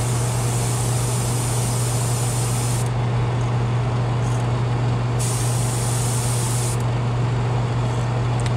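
Steady, loud airbrush hiss as paint is sprayed onto a fishing lure bass body, a continuous spray with a low compressor hum beneath it and brief shifts in the high hiss.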